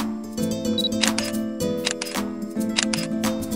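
A camera shutter fires in several quick, crisp snaps spread over a few seconds, sharp clicks standing out above a steady musical background.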